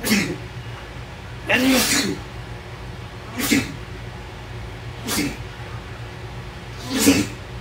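A person sneezes four times in a row, each sharp burst spaced a couple of seconds apart, close and fairly loud over a quiet background.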